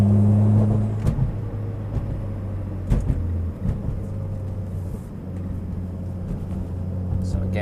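Mitsubishi Evo X MR engine idling and rumbling from inside the car, with a few light throttle blips around 10–20%, each a brief low swell over steady road drone, under an occasional voice.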